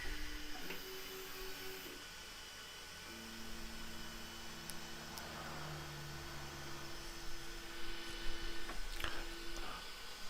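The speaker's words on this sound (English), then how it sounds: "I'm just going to take the mic off and put it in the printer box so that you get an idea of how loud the printer is." Anycubic Kobra S1 3D printer printing a benchy, heard from inside its enclosure: a steady motor hum with sustained stepper tones shifting in pitch, plus faint clicks and whirring, with no one talking.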